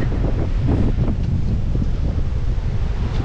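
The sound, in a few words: strong wind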